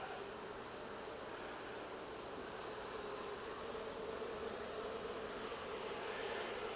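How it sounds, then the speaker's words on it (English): Honey bees crowd a hive frame, producing a soft, steady, hissing hum that swells slightly toward the end, with no voices. "there's a lot of bees on that frame"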